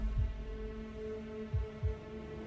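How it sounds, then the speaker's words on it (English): Three slow, low thuds of a heartbeat sound effect throb through a dark, humming drone, each beat distinct and deep, with no voices present. "You feel your heart beating."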